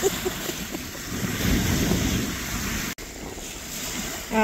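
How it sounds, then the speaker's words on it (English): Wind-driven waves wash and slap on open water, a steady rushing roar with gusty microphone buffeting and no talk. "Look at the waves."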